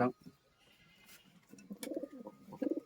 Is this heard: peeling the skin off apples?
no